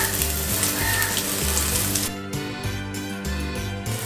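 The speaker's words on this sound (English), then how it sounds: "I have put some oil in it. I'm going to add my garlic and I'm going to add the onion." Garlic and onion hit hot oil in a pan and sizzle loudly and steadily, with a fizzing crackle that continues throughout; no talking.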